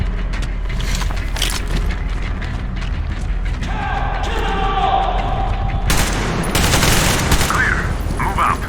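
Covering fire rages in Metro Exodus, sustained machine-gun bursts and booming shots rattle continuously, growing louder toward the end, with soldiers shouting over the gunfire.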